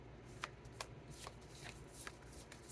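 A tarot deck being shuffled and handled as a card is drawn, giving soft papery riffles with a few sharper card snaps spaced through, quiet and close with no voices.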